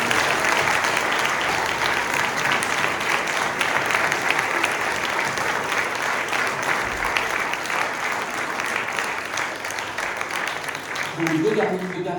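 A theatre audience in Lyon gives sustained applause for playwright and director Laurence Boeck, a dense continuous roar of many clapping hands that holds steady throughout, with a voice speaking briefly near the end.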